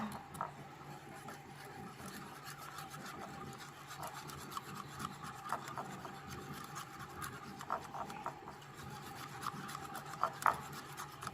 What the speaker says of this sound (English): to that we're gonna add 1½ cups of milk and whisk that together